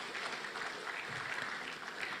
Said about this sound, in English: please a big round of applause for all the organizers and sponsors